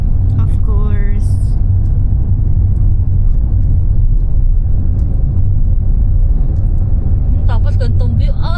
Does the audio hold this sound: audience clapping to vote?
no